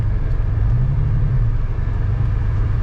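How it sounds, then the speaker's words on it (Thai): A Mercedes-Benz car drives into a house compound with a steady, close, low engine rumble and no voices. "ตอนนี้เข้าบ้านแล้วนะครับ ขับเข้าบ้าน"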